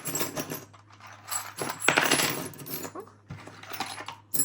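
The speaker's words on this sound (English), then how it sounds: "Lots and lots of old keys." Metallic jangling and clinking as a pile of old keys is poured out, bursts of loud rattling with brief pauses between.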